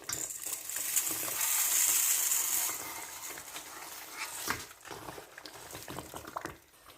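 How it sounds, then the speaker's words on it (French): Rice goes into a simmering tomato sauce with risen oil and is stirred in, giving a steady close sizzle with scraping and wet stirring strokes, then bursts of clattering toward the end. "Je vais bien mélanger le tout avec le riz"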